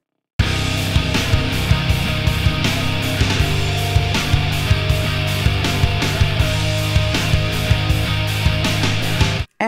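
A short, loud riff on heavily distorted electric guitar churns through low chords, punctuated by regular sharp hits, and plays alone without voices before stopping suddenly.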